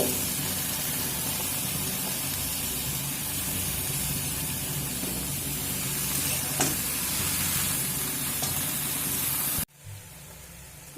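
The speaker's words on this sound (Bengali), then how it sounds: "সসিনার ফুল সেইগুলো দিয়ে দেব দিয়ে চাপা দিয়ে তিন থেকে চার মিনিট মিডিয়াম ফ্লেমে রান্নাটা হতে দেব" Drumstick flowers sizzle steadily in mustard over a medium flame, a continuous hiss and crackle that stays close and even before stopping abruptly near the end.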